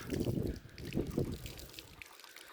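Water pours from a hand pump at Ban Devi temple in Hoshiarpur, a close splashing gush in uneven surges that trails off into quiet near the end.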